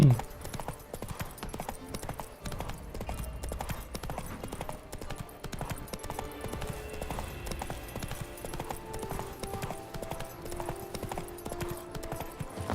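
Horse hooves clip-clopping at a gallop in The Witcher 3 video game, a fast continuous rhythm throughout with light game ambience and faint speech over it.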